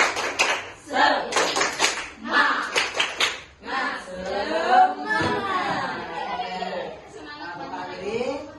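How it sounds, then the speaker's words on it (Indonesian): A class of students does the rhythmic 'tepuk semangat' clapping chant, loud patterned claps in quick groups for several seconds, then voices chant together in unison over lighter claps. "Tepuk semangat"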